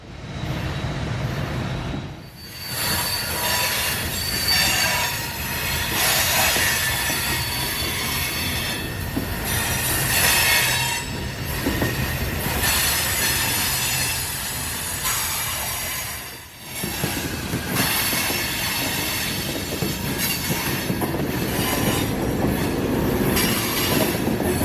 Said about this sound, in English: that engine would be a brand new ST-70 Mace, leading this coal train south towards Atlanta, notching his throttle all the way up to make it over the grade